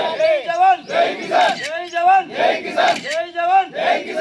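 Protesting farmers at a polling booth chant slogans in unison, a loud group of voices shouting rhythmic call-and-response phrases in repeated bursts.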